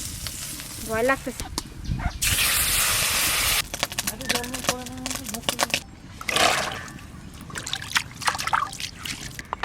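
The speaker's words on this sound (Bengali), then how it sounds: "এই মাছ যা ফুটতেছে কড়াইতে" Fish bubbling and hissing in a wok over a traditional clay stove, steady sizzling spells broken up by a person speaking nearby.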